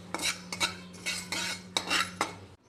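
A metal spoon stirs and scrapes a spoonful of poppy seeds around a kadhai, a few separate clinking strokes over a low steady hum, with no voices.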